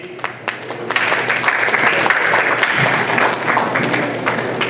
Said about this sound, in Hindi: तालियां चलती रहें